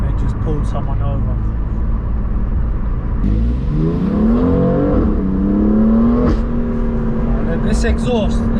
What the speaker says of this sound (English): this exhaust is crazy